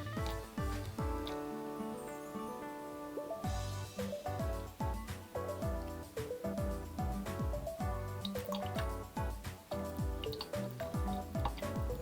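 Water trickles and drips into a measuring cup for mixing resin powder, a close series of small splashy drips and gurgles over background music.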